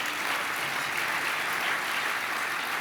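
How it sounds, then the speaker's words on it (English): Sustained applause from an audience at a business awards event honoring fast-growing Utah companies, steady dense clapping filling the hall without a break. "Please give them all another round of applause."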